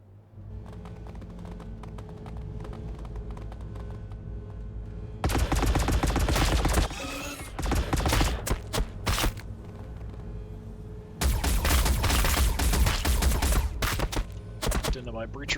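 Bursts of T'au weapons fire in the video game Warhammer 40,000: Battlesector: loud, dense volleys of shots arrive in two main barrages over a steady low battlefield hum, with brief gaps of quieter rumble between them.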